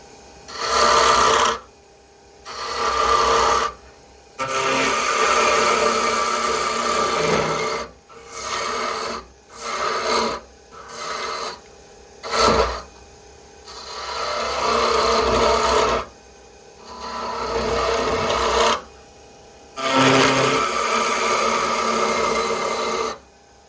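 A lathe cuts the stem of a wooden spinning top, giving bursts of rough, raspy cutting noise that start and stop repeatedly, close and loud, with short quiet gaps between passes.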